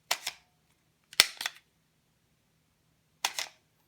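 Smith & Wesson M&P M2.0 pistol magazine released and springing out with the action locked open, giving sharp close metallic clicks and clacks in three separate short clusters with quiet gaps between.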